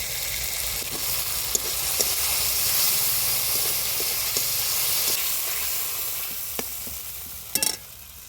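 Ginger-garlic paste and tomato hit hot oil in a pan over a village cooking fire, giving a steady broad sizzle with light stirring scrapes and a few sharp spatters near the end.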